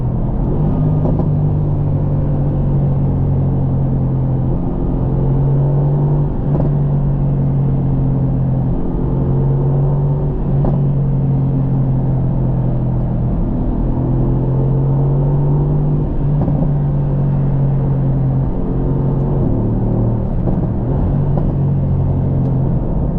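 A Mercedes-AMG GT C drives hard, its engine loud and close with a continuous low roar that rises and falls through gear changes and acceleration over a long stretch, no talking.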